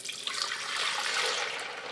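Water running from a tap into a container for making almond milk, a steady bright splashing rush lasting throughout, close and alone.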